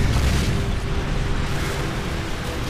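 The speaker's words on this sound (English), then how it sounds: "Friendly Predator missile inbound." A Predator missile strikes in Modern Warfare 3, a heavy, sustained booming rumble that fills the whole stretch at steady loudness, with no voices over it.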